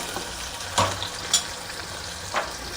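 Onion and tomato fry in a pan for spicy mutton, a steady soft sizzle with a few brief stirring scrapes, close and fairly quiet with no talk.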